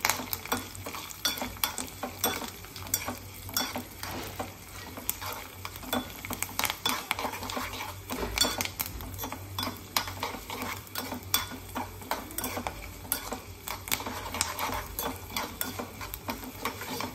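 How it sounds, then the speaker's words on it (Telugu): Spoon stirring and scraping through sizzling ridge gourd and tomato frying in a pan for chutney, a steady soft crackle with irregular clinks of utensil against metal, no voices. "ఇలా కలుపుతూ ఉంటే ఏంటంటే చక్కగా ఈవెన్గా వేగుతాయండి అన్నీ, అందుకని ఇలా కలుపుతున్నాను"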